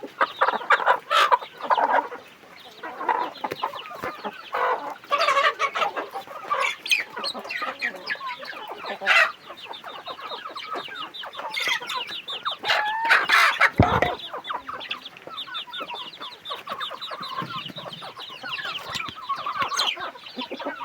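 Fighting chickens at a rural farm cluck and squawk in repeated bursts, fairly close and loud, with one sharp cry near the middle and quieter clucking throughout.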